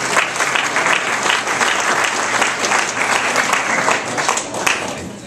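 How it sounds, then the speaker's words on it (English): Steady applause from a gathered crowd at a political campaign event honoring precinct committeemen, dense clapping sustained loudly and evenly throughout. "a little applause for the precinct committeemen who have done such great work"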